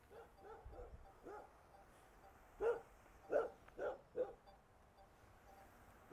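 A dog barks at a passerby during a walk in Yilan, Taiwan, where a drone is being flown: four sharp, fairly close barks in quick succession mid-clip over quiet outdoor background.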